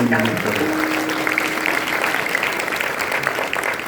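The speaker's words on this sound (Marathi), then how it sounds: "किती जोरदार टाळ्या आपल्याला पाहिजे होते" An audience claps loudly and steadily throughout a devotional kirtan gathering, a dense wash of applause continuing at an even level from start to finish, with a brief tone at the start.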